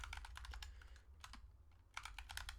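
Fingers tap out a login password on a computer keyboard in quick bursts of close, crisp keystrokes, with a short pause in the middle, all faint and without any talk.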